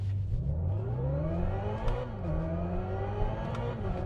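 Synthetic drive sound of a Hyundai Ioniq 5 N in Evolution mode, inspired by high-performance electric vehicles: a steady electronic whir with tones that climb and dip like a rising and falling motor pitch, heard from inside the car.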